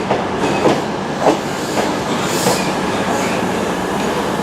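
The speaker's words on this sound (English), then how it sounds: "this train's really busy" A busy passenger train at Plymouth station rumbles past close by, wheels clacking in a steady rhythm with occasional squeals over a continuous loud roar.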